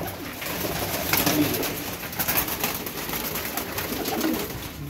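Several flying pigeons coo and murmur continuously nearby, with soft rustling and flapping mixed into a steady, busy background.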